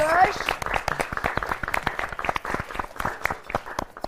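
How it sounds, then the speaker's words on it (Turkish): A studio audience on a Turkish bride-and-mother-in-law game show claps together, a brisk scattered rhythm of hands, with voices and faint show music mixed underneath. "Alkışlıyoruz."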